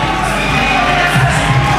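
A crowd at a fight event roars steadily, loud and dense, with shouts and whoops rising near the end.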